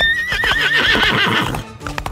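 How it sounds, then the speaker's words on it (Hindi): A horse neighs restlessly in a loud, close whinny with a wavering pitch, trailing off near the end amid a few hoof clops. "तूफान ने बेचैनी से हिनहिनाया"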